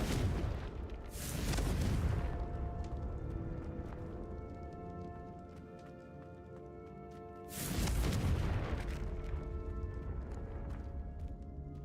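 Two heavy blasts from the Confringo fire spell in Hogwarts Legacy on the Switch, each a loud booming burst separated by several seconds, over steady game music.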